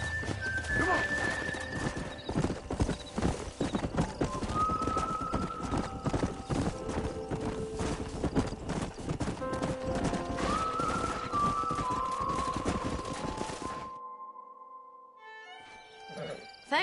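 Horses in the video game Red Dead Redemption on PS4, with steady clip-clopping hooves and several whinnies and neighs over a busy in-game background, ending in quieter ambience.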